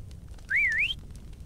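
A single whistle blown in the survival game Atlas gives one bright, clear warbling tone that rises and dips for about half a second, loud and close above a soft background hum.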